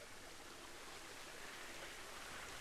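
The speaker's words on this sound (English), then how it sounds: "And you've got a waterfall right here, which is going to help mask the noise." A waterfall in the Planet Zoo game, a steady broadband rushing roar of falling water, close and even throughout with no talk.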